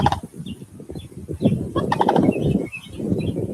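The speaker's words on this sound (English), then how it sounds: "And you hear the noise it's making. That's the sandhill crane." A sandhill crane's loud, rattling call repeats in rolling bursts, close by, with other bird sounds mixed in and no talking.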